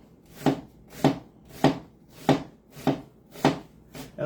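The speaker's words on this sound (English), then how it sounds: "let's cut it nice and thin" A knife slices through an onion for thin rings, with seven crisp, evenly spaced cuts landing on a board about every half second, close and alone.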